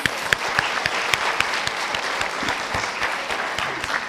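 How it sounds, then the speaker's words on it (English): Panelists and attendees at a gut health and lifestyle disorders symposium applaud, a sustained patter of clapping with distinct close claps ringing out over the crowd. "let's give a big thunder of applause"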